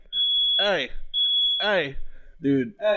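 A smoke alarm gives two long, piercing high-pitched beeps about a second apart, heard between and over men's casual greetings nearby.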